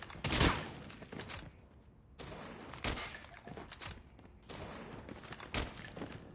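Gunfire crackles in COD Mobile on a new map as several loud, sharp bursts of shots separated by short gaps, with game sounds between them.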